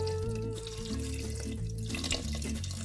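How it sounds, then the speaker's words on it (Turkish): Cold water pouring from a kettle into a pot of pumpkin soup, a close, continuous gurgling pour that shifts in pitch as the pot fills. "Sıcak değil soğuk su ekliyorum."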